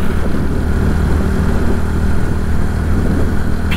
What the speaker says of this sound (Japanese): 新型プリウスじゃないですか。